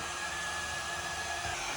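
A Grunhelm GRW31SW square window-cleaning robot runs on glass with a steady, faint motor whine and airy suction hiss, unchanging across the short stretch.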